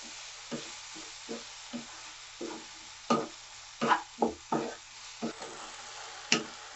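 Salted tomatoes cooking in a pan give a soft sizzle, broken by a regular series of scraping stirs from a spoon, some louder and sharper than others, with no talking.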